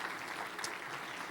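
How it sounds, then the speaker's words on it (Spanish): Audience applause welcoming speaker Sara Borowska at a Spanish-language church talk, a short steady patter of clapping at low level with no voices. "Démosle la bienvenida con un fuerte aplauso"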